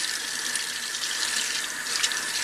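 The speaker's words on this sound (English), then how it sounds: "I'm going to put in 3 cups of hot water." Hot water pours steadily into a high-power blender jar while making avocado soup, a continuous bright splashing stream running for the whole stretch with no talking.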